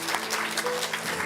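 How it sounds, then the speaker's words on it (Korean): A church congregation at a Sunday worship service claps in congratulation, a brief burst of dense group applause heard from within the room. "우리 축하의 박수 한번 드리겠습니다"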